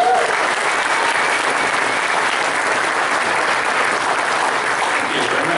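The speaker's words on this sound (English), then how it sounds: "So give a round of applause to our presenters." Steady, full applause from a convention panel audience greeting the presenters of a Star Wars collecting track session, even and sustained throughout with no break or talk over it.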